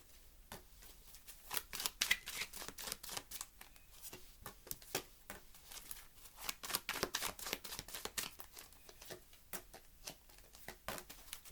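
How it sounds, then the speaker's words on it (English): Tarot cards riffled and shuffled in a steady run of crisp, close flicking bursts, with occasional card snaps as cards are drawn from the deck; no voices. "Just pulled out some extra cards"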